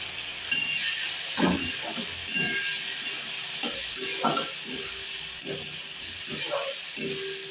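Onions sizzle in a pan for chicken ghugni with a constant hissing fry, punctuated by a regular series of short clinks and scrapes from stirring, some faint speech in the background.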